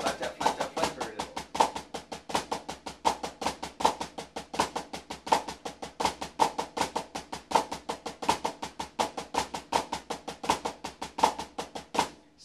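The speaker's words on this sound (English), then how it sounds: "So you can hear the flams playing that rhythm." Snare drum flam taps and flam paradiddles ring out in a steady, even stream of crisp grace-note strokes. The exercise runs continuously at a moderate tempo and sounds close and clear, with no voice over it.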